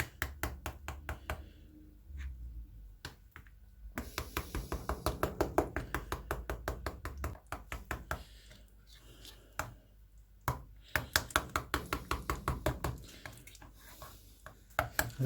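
Lemon juice and salt are stirred into a chicken marinade in a bowl, giving rapid wet clicking and tapping strokes close by. The strokes come in bursts with short pauses, and there is no speech.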